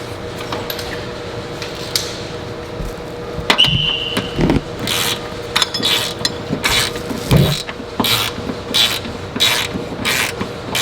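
A ratchet tightens bolts on the rear end bushings of a Mitsubishi Evo X, delivering repeated quick clicking bursts with metallic rubs and clanks between them, close up and fairly loud.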